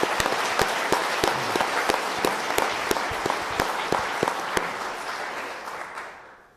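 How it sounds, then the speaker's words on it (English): A conference audience at a closing ceremony applauds the chair, dense steady clapping from a crowd in a hall with a few sharper near claps, then fading out toward the end. "I want to give her a round of applause and thank you"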